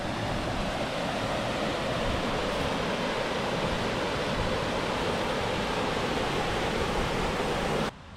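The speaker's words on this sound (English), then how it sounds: "Well, I do love a good waterfall." A waterfall on a hiking trail near Tromsø, Norway, roars as a steady, dense rush of water, loud and close, with no voices over it.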